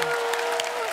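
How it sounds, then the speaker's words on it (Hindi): A studio audience on a comedy talk show applauds, a dense, steady wash of clapping that holds for about a second, with a sustained tone running underneath. "जोरदार ताली"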